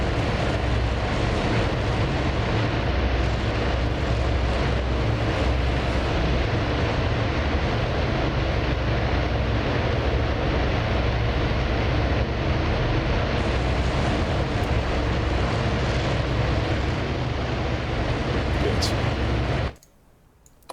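Carrier aircraft launching one after another off the deck of the USS Lexington in a naval combat game, a steady loud roar of engines throughout that cuts off abruptly near the end.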